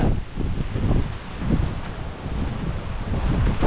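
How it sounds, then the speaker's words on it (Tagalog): Strong wind gusting at sea aboard a boat, a loud continuous buffeting roar with surging gusts across the microphone and no voices. "Lakas ang hangin."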